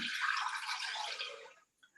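A liter of water poured into a Thermomix over 300 grams of jasmine rice sitting in the steaming basket: a steady, hissy splashing stream that runs for over a second and a half, then stops abruptly.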